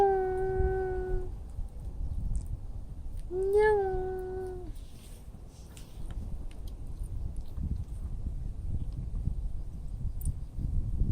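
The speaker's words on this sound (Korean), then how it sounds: "냐옹 야옹 소리 한번 해봐" A stray cat in a park parking lot gives two clear meows, one at the start and a second a few seconds later, close and distinct over faint background noise with no talk.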